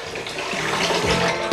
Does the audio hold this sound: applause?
no